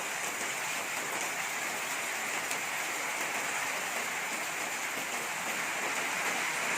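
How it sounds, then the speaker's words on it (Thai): Light but steady rain falls continuously in an even, close hiss on surfaces during a cool evening shower, with no voices and no breaks. "บรรยากาศฝนตกครับตก ไม่หนักเท่าไหร่ครับ แต่ว่า ก็ ตกเรื่อย ๆครับ"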